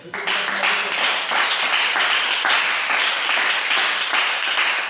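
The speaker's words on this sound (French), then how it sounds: "On acclame le Seigneur" A church congregation applauds in worship, a dense, continuous wash of many hands clapping with a few stronger rhythmic accents, sustained and fairly loud.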